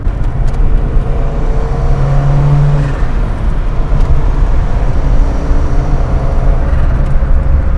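A 1989 Lancia Delta Integrale 16V rally-bred hatchback under light throttle, a steady close engine drone with road and wind noise from inside the cabin, no voices.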